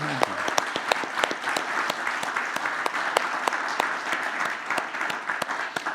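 An audience at the closing session of a smart-city centre event applauds steadily, with many sharp individual claps ringing out over a continuous wash of clapping, close and lively throughout.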